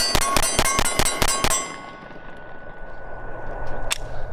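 Pistol fired at a target 15 yards away, seven rapid, sharp, ringing shots at an even pace, loud and close, then quiet outdoor noise with one faint later click.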